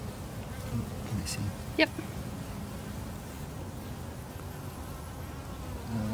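A honeybee colony buzzes as a steady, close drone during a hive inspection, with brief soft voices exchanging a few words over it.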